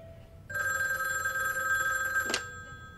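A telephone rings in a scene from the horror film Hellraiser: Inferno, a steady electronic ring starting abruptly and holding for about two seconds before cutting off, loud and close with no voices.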